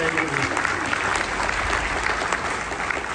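A convention panel audience applauds for a late Minnie Mouse voice actress, dense steady clapping from a large crowd filling the room throughout.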